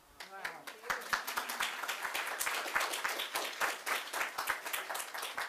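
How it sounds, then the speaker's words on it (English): An audience at a meditation museum's grand opening claps for a speaker, fast dense applause that rises quickly and holds steady and fairly loud, with voices mixed in. "another round of applause for Marcia Dyson"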